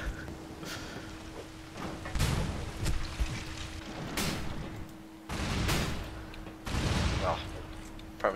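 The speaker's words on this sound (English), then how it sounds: "Premature explosion." Explosions and gunfire boom repeatedly in the online shooter game Loadout. Several heavy, broad bursts land over a dense background of combat noise while players talk.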